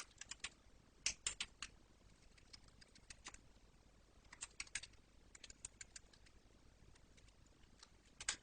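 Keys tapped on a computer keyboard in short irregular bursts, close and fairly quiet, with pauses between clusters of keystrokes and no voices.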